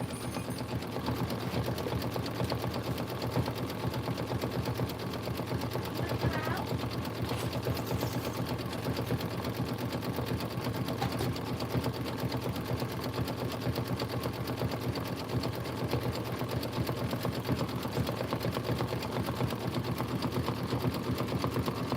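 A sewing machine stitches a quilt block in a continuous, steady mechanical whir at moderate volume, running without pause throughout.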